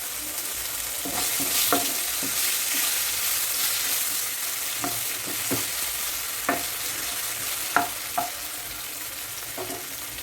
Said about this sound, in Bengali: পেঁয়াজটা এরকম লাল করে ভেজে নেওয়ার পর আমি এতে দিয়ে দেবো টমেটো টমেটো আর কাঁচা লঙ্কা